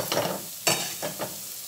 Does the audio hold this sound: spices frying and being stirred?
yes